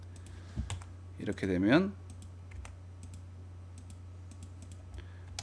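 Scattered computer keyboard keystrokes click up close during AutoCAD drafting, with a brief spoken phrase near the start.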